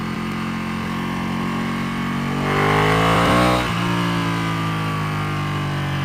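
A Ducati Panigale 1199R superbike engine revs up hard while riding through traffic, a loud steady drone that swells into a rising roar midway, then settles back to a lower hum.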